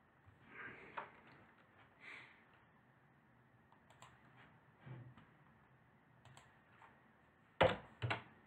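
Computer keyboard typing a short note, sparse scattered keystrokes and clicks in short bursts with pauses between, faint and close in a quiet room, ending in a couple of louder taps.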